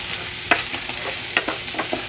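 Cooked rice stirred and tossed in a hot pan for chaopan fried rice, with a steady soft sizzle beneath repeated scraping and clinking strokes of the spatula, close and fairly loud, no talking.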